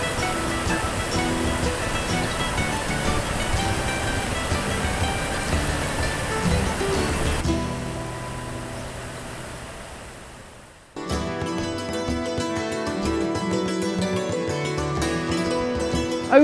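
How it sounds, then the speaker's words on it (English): A modest waterfall in Oslo, Norway's capital, gives a steady, loud broadband roar for several seconds that fades before other sounds take over. "that's the biggest waterfall, that's not that impressive"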